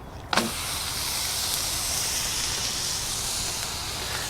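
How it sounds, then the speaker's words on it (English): A hamburger patty lands on a hot griddle with a brief thump, then sizzles in a steady, loud, broadband hiss that carries through to the end without any talking. "Let's get this on the griddle."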